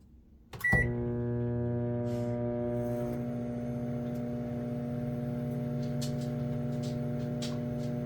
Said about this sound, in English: that's the normal sound of the microwave